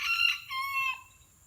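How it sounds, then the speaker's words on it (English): A rooster crows in the background, a single thin, drawn-out call that rises and then trails off, faint and set apart from everything else. "Shut up, bird."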